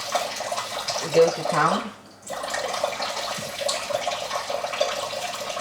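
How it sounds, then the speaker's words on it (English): Hands are wetted under running water while cooking, a steady splashing hiss that briefly stops and starts again, with a person talking over it. "Just gonna wet my hands"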